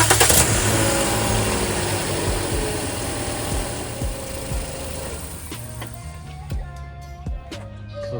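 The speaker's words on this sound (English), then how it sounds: "that's how to jumpstart a car" A car engine cranks and fires up with a VTOMAN V-Truck Pro 8000A jump starter, then settles into a rough, loud idle with a few clicks and knocks near the end.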